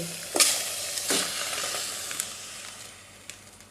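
Boiled bamboo shoots in yanang-leaf water are poured into a hot pot, with a few sharp splashes at the start followed by a steady sizzling hiss that slowly fades, close by.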